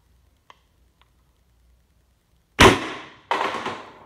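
A Valken M17 paintball marker running a drilled bypass regulator at about 850 PSI with an 8-inch Lapco smooth-bore barrel double fires, two sharp loud pops less than a second apart, with faint clicks before them.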